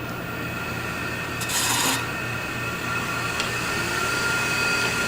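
A woodturning tool shapes a wooden ring box on a lathe, giving a steady close rasping scrape over a constant motor hum, with a brief louder grinding burst partway through.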